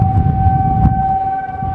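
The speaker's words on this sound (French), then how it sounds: "Cette sirène marque le début d'un exercice" An airport fire service siren at Montpellier airport sounds a steady sustained wail marking the start of an exercise, loud and continuous over low rumbling background noise.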